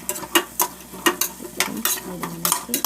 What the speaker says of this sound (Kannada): ಈರುಳ್ಳಿ ಕೂಡ ಚೆನ್ನಾಗಿ ಎಣ್ಣೆಲಿ ಫ್ರೈ ಆಗಬೇಕು